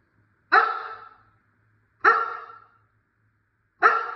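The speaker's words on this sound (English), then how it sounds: "when she first did speak, she would like bark and then wait like 10 seconds and bark again" A dog barks on a speak command during a training session, three separate single barks spaced about one and a half seconds apart, close and loud with quiet in between.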